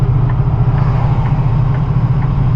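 A loaded truck's exhaust brake on a long downhill grade in British Columbia, a loud, steady low rumbling drone from the engine with a gentle pulsing throb throughout.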